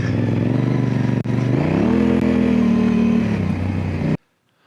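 A mini bike engine buzzes close and loud, its pitch climbing as it revs up and then easing back, with a brief clatter early on before the sound cuts off abruptly.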